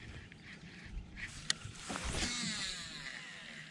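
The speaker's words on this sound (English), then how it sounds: "Already I can tell you I don't like paddling by hand." A kayak on a river is paddled by hand, with faint water swishes and soft splashes building toward the end, one sharp knock midway, quiet and close with no talk.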